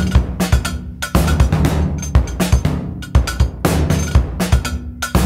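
Drum kit from Reason Objekt, a physical modeling synth, played dry with no reverb. Punchy kicks and snappy hits form a steady groove with ringing metallic tones, close and loud, with no voices.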